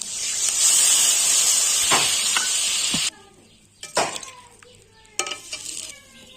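A pot of Bengali fish curry broth with chopped tomato, turmeric and Kashmiri chilli powder bubbles and sizzles hard, a loud steady hiss that drops off abruptly midway, leaving quieter crackles and a few sharp pops.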